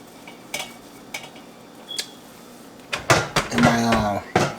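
Potatoes being flipped in a Nuwa air fryer basket: a few scattered clinks and taps, then a busier run of metal scraping, rattling and knocking near the end, close and moderately loud.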